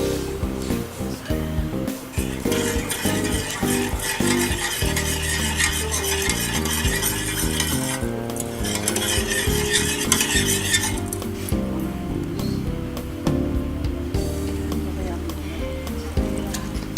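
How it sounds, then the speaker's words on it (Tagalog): Vinegar, sugar and peppercorns being stirred in a small aluminum pot, with a continuous scraping stir, faint sizzle and metallic clinks of a spoon on the pot, under steady talk. "Stir the mixture for a while."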